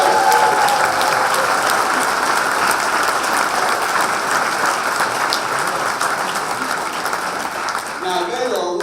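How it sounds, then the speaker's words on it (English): Sustained crowd applause at a Democratic political rally on Long Island, loud and steady throughout with dense clapping, easing slightly near the end as a voice begins to speak. "Rich Schaefer and Jay Jacobs, let's give them a round of applause."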